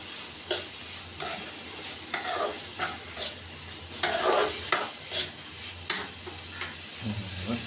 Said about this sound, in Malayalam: ഇപ്പോഴൊന്ന് ഇളക്കിയത്, കുറേ സമയം കഴിഞ്ഞിട്ടാണ് ഇളക്കിയത്